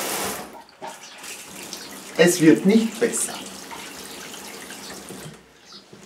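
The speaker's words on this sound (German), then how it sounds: "wenn man den Wasserhahn aufdreht, damit das Wasser in die Wanne rinnt, dann duscht die Dusche mit" Water runs from a bathtub faucet on a single-lever mixer with a diverter, troubled by limescale from very hard water, giving a steady hiss that swells briefly midway, with someone speaking over it.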